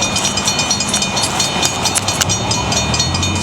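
A malfunctioning railroad crossing signal in Traverse City, Michigan goes off with no train present, giving a loud, steady clanging ring over rumbling traffic noise outdoors.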